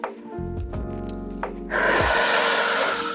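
During a Pilates exercise a person takes a short, sharp inhale through the nose and then lets out a long, loud, close exhale.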